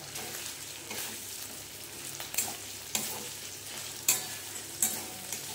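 Tomatoes and ginger fry in a pan for a pumpkin curry: a steady close sizzle with intermittent scraping and stirring, and several sharper clatters from the spatula.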